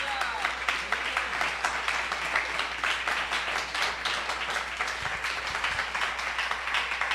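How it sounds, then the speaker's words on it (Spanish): Congregation applauding during a church sermon, a steady dense patter of many hands at moderate distance filling the whole stretch, with voices mixed in. "Denle ese aplauso al Señor con alabanza."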